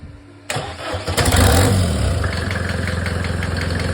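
A Mercedes OM601 2.3 turbo diesel engine cranks and catches, then settles into a loud, close, rattling idle with a steady throb, no voices over it.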